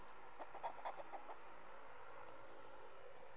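A Dominique hen in a chicken house nest box gives a short run of soft clucks, fairly close and alone, then quiet.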